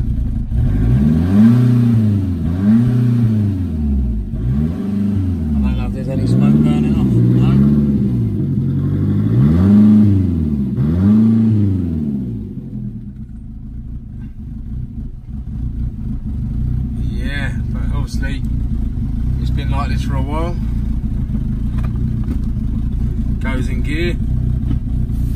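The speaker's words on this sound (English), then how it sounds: "We've got a blow and a misfire by the sounds of it" A Fiat Punto GT engine runs with an exhaust blow and a misfire. It gives a loud, close, pulsing idle with rhythmic surges for about half the time, then a steadier rough running as someone talks over it.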